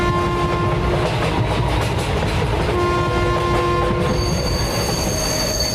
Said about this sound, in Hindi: ट्रेन स्टेशन पर आकर रुकती है।